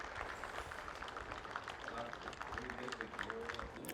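A stadium crowd applauds steadily in tribute to Viktor Vivcharenko at a Ukrainian First League football match between Prykarpattia-Blaho and Chornomorets, a dense continuous wash of clapping with a commentator's voice running over it.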